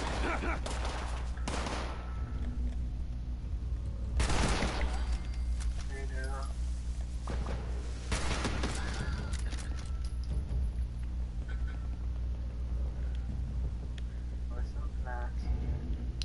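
Gunfire in Fallout 76 breaks out in sharp bursts of shots inside a building, several loud volleys spaced apart over steady game ambience, with someone talking over them.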